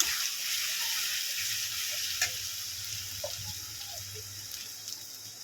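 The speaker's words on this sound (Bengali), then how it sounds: "আমার আদা রসুনের পেস্ট দিয়ে এটাকে ভালো করে একটু ভেজে নেব" Chicken fries in a pan with ginger-garlic paste and turmeric for a Bengali chicken curry with potatoes, a steady close sizzle running throughout with a few faint scrapes and clinks, no voices.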